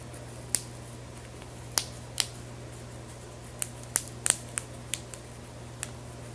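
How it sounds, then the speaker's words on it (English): Scissors make a string of sharp, separate snips as they cut open a plastic sample bag, about a dozen crisp clicks spaced irregularly over a steady low hum, close and fairly quiet, with no talking. "I'm going to have to come in here and give it another little cut because I want that top bag to split open"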